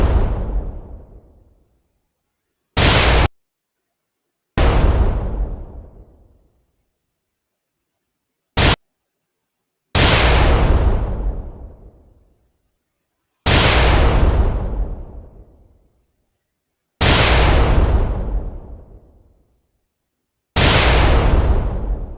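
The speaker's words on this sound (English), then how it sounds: "Drop our own damn bombs." Heavy explosions boom one after another, about six long rumbling blasts each decaying over two seconds, separated by sharp short bursts and silent gaps, loud and close.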